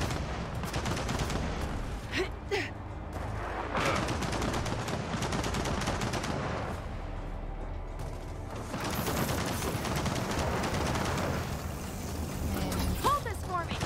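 Gunfire in the video game Gears of War 4, with dense bursts of rapid shots and mechanical clatter running through most of the stretch, mixed with game noise and a voice in the background.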